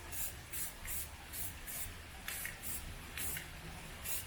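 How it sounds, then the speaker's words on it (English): Short bursts from a Rust-Oleum spray can coat 5th Gen 4Runner rock sliders, about ten quick, faint hissing puffs in a fairly regular rhythm. "We're just using Rust-Oleum here, guys, to give them a quick little protective coat."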